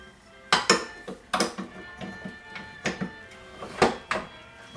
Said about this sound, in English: Just put our dough hook on.